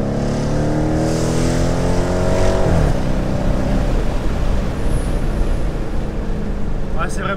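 A Dodge Challenger R/T muscle car engine rumbles steadily and fairly loud throughout, with rising harmonic tones as it revs early on, while people talk over it.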